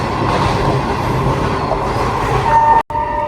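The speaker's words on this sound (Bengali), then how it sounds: "এই দেখেন আমার বারান্দা দিয়ে দেখা যায় ট্রেন যাচ্ছে" A freight train rolls past a residential balcony with a steady rumbling roar and a faint wheel squeal near the end, then a brief cutoff.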